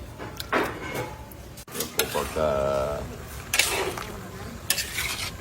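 Pork intestines and bulaklak frying in their own rendered fat for dinuguan, a steady sizzle with occasional stirring and clinks of a utensil against the pan, fairly close and continuous throughout.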